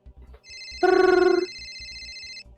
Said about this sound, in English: It's the phone. Pick it up.